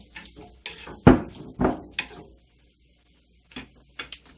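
Chopped sautéed onions are tipped from a pan into a pot for country string beans and potatoes, making a few clattering metallic knocks and scrapes, then quiet with faint clinks.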